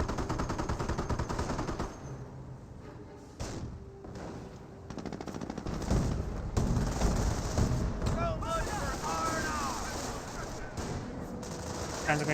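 Rapid machine-gun bursts and rifle fire crackle through a Company of Heroes WWII battle between Greyhound armored cars and Panzer Grenadiers, with sustained overlapping volleys, scattered impacts and faint whistling tones as the fighting continues.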